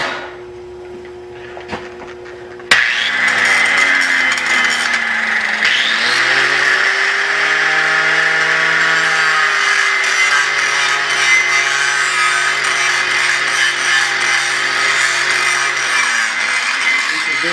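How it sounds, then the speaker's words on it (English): An angle grinder on a MIG weld bead starts after a quiet moment, then runs for a long, loud, steady whine as the disc grinds the metal, its pitch shifting slightly under load. "Let me hit that with a grinder."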